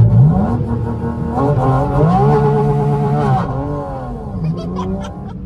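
A Porsche GT4 RS sports car launches hard, its engine revving loud and close through rising, falling and rising pitch sweeps as it accelerates through the gears, then easing off at the end.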